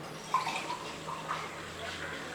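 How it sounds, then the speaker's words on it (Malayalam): Half a glass of water poured into a pot of cooking beef gives a faint, soft splashing trickle with a few small drips, low in level against a quiet room. "ഇനി നമുക്ക് ഒരു അര ഗ്ലാസ് വെള്ളം കൂടെ ഒഴിക്കാം"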